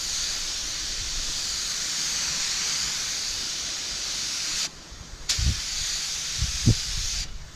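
Spray gun at turned-down pressure hissing paint onto rust on a Holden Commodore V8, a steady close hiss that stops briefly, then resumes in short bursts with a few low knocks.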